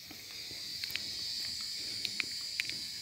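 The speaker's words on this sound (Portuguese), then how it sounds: "Tô aqui com o barulho das cigarras cantando lá na..." Cicadas sing as a steady high-pitched buzzing drone in a backyard garden with a flowering chayote vine, continuous and moderately distant, with occasional faint clicks and rustles nearby and no talking.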